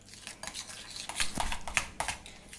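A spoon mixes butter, cream cheese and lemon juice in a bowl, with clinking and scraping against the dish in an irregular run of strokes, close and clear with no talking.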